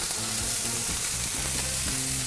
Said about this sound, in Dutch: Zo, het vlees bakken we 2 minuten om en op.